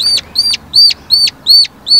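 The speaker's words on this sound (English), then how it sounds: "Mark took us back to his farm and let Tommy play with the baby turkeys." Baby turkeys on a farm give six loud, close, evenly spaced high peeping calls, each a sharp rising chirp with short pauses between, no voices.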